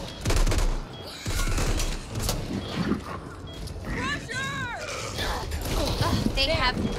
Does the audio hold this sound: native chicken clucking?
no